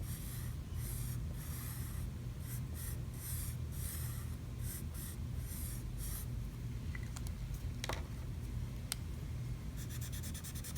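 A pencil sketches lightly on paper in soft rapid scratchy strokes, quiet and close, with short pauses and a few sharper taps as it works.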